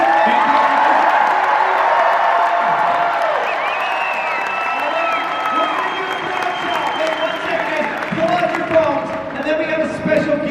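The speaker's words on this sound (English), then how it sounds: "Everybody, please give a huge round of applause." A fan convention crowd at FanX 2025 applauds and cheers for Zachary Levi: loud, sustained clapping with whoops and whistles, close and continuous, with voices talking through it.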